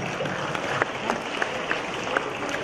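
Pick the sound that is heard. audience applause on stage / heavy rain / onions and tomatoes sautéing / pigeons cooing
audience applause on stage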